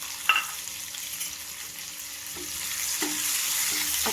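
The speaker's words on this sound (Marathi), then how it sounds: "कांदा छान लालच्या रंगावर भाजून घेतला" Chopped onion frying in hot oil with cumin seeds, a steady bright sizzle that swells slightly over time, broken by a few soft scrapes of a spoon stirring the pan; no voices.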